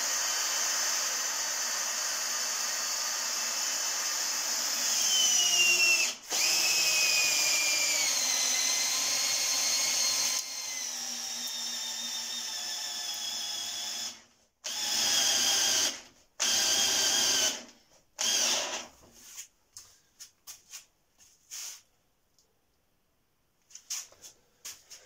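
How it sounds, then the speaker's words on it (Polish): Parkside cordless drill-driver driving screws: a loud, close, high whine with shifting pitch runs steadily for about fourteen seconds, then breaks into short stop-start bursts that end in silence. "Sprawdzimy jeszcze raz w innym miejsce, ponieważ zawsze takie wkręty bez problemu wkręcałem tą wkrętarką."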